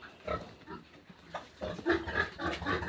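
A sow with her ten newborn piglets, giving irregular grunts, oinks and squeals at close range in short bursts, with a little human murmuring mixed in.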